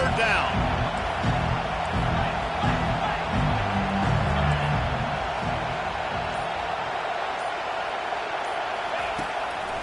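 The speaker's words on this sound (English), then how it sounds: "Here comes this home crowd as the defense tries to get off the field on third down." Home crowd at a Tennessee college football stadium roaring on a third-down play, a dense sustained wall of cheering and noise at close range, with a commentator talking over it.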